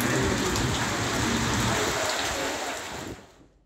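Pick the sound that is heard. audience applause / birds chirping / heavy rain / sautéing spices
heavy rain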